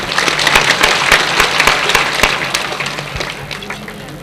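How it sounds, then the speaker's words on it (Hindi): Loud applause with dense clapping from the audience at a magic show in India, sharp individual claps standing out early and gradually thinning toward the end. "आप सब लोग एक बार जरा जोर से ताली लगाएंगे।"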